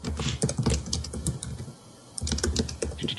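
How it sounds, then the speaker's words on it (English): Rapid typing on a computer keyboard, dense clacking keystrokes close to the microphone, pausing briefly midway before the flurry resumes. "Who's typing?"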